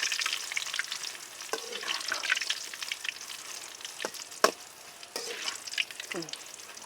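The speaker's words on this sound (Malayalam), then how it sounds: "എണ്ണ ഇപ്പം നന്നായിട്ട് ചൂടായി വന്നിട്ടുണ്ട് നമുക്ക് ഈ മുറിച്ച് വെച്ച പപ്പടത്തെ ഇതിലേക്ക് അങ്ങ് ഇട്ട് കൊടുക്കാം ഇട്ടിട്ടൊന്ന് നന്നായിട്ട് ഇളക്കി കൊടുക്കാം" Cut papad pieces fry in hot oil, giving a crackly bubbling sizzle at moderate volume, punctuated by several sharp scraping clicks as a spoon stirs them around the pan.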